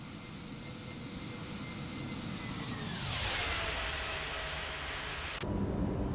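Fenix Airbus A320 jet in Microsoft Flight Simulator roars past in a flyby, a broad steady engine rush whose pitch drops sharply midway as it passes, followed by a lower lingering rumble.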